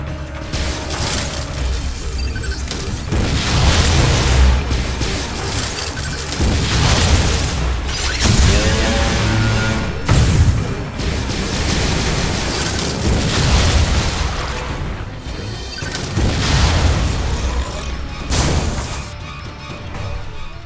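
Loud missile launches and explosions from Metroid Other M crash and boom in rapid succession, with mechanical clanks and rumbling between blasts.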